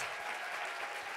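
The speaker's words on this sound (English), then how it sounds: "Keep that applause going for her stage." Audience applause at a podcast creator showcase, a dense, continuous wash of clapping from a sizable crowd, fairly faint and steady with no talk over it.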